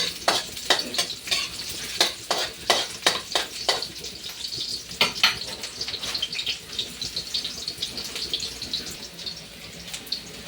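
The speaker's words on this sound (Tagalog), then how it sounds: "Igisa na natin ang ahos at saka bombay ha." Garlic and onion sautéing in a pan, a steady sizzle under quick rhythmic scraping strokes of a spatula, close by, the stirring easing off into a quieter sizzle toward the end, no talk.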